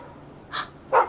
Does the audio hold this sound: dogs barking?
yes